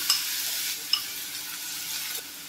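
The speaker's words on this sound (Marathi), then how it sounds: "तेल आपलं गरम झालेलं आहे, तर सर्वप्रथम आपण त्यामध्ये घालणार आहोत कांदा" Two large onions drop into hot oil and fry with a bright, steady sizzle, with a couple of sharp crackles near the start, close and alone.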